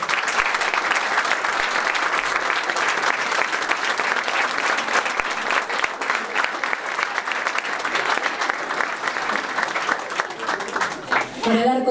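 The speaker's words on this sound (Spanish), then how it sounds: "para quienes pido un fuertísimo aplauso" A crowd at an Argentine agrotechnical school's expansion ceremony gives students steady, dense applause that continues for about twelve seconds, loud and unbroken, before fading out at the end.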